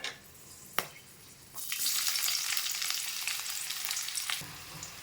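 Onions tossed into a pan with hot oil and spice burst into a loud, steady sizzle after a quiet start with a single sharp clack, frying continuously before a soft knock near the end.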